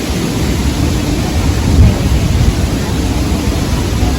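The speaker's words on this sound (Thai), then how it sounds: "ฝนมาก" Heavy rain pours in a dense, steady hiss with a low rumble underneath, loud and unbroken throughout.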